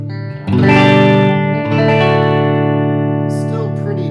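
Electric guitar played through an Orange Micro Dark valve amp at home volume with the reverb switched off, a sustained chord rings out after a brief pause, then changes and keeps ringing with slight breakup.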